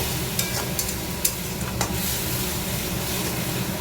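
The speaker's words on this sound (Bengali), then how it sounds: "এখানে একটু লঙ্কা পাউডার দিয়ে দিয়েছি, এটাকে ভালো করে ভেজে নেবো" Chili powder and spices frying in a pan hiss with a dense, close sizzle, broken by a few sharp stirring clinks and scrapes.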